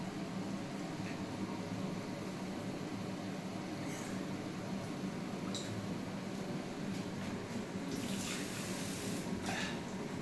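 Water poured away during home chicken biryani cooking, heard as a steady, fairly faint wash of running, splashing water throughout.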